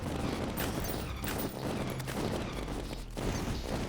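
Rapid automated turret fire in a Terraria game session, a dense, continuous crackle of gunfire-like shots running steadily throughout, loud and close with no voices.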